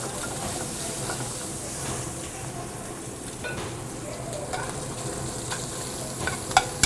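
Sausage frying in a pan for a mussels dish, St. Anthony's Feast style, making a loud, steady sizzle and hiss with scraping stirs throughout and a sharp clatter at the end.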